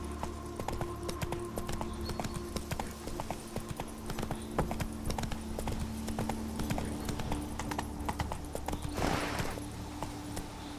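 Roach, a horse in The Witcher 3: Blood and Wine video game, clip-clops along in a steady, rapid hoof rhythm, close and continuous, over a humming game ambience with a brief whoosh near the end.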